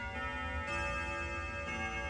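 A household clock chimes, set to sound every five minutes, its steady ringing tones sustained clearly with no talk over them.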